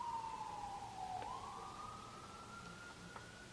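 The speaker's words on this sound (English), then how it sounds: "Sorry if you guys can hear all the sirens, which I know you can" A single siren wails in the distance, its pitch sliding down and then up again as it passes, over a low rumble of background noise.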